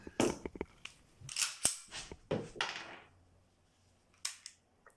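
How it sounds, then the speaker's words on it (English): A CZ P07 pistol being made safe by hand, a few sharp metallic clicks and clacks of the slide and action at close range, with soft handling rustle between them. "I'm just going to make the pistol safe."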